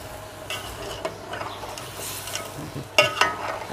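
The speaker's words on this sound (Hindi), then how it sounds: "हम ना इसको वक्फे वक्फे से चम्मच चलाते रहेंगे अच्छे तरीके से।" Quail karahi frying in a wok as a spoon stirs it now and then, giving soft scrapes over a low sizzle, with a couple of sharper metallic knocks near the end, close by and alone.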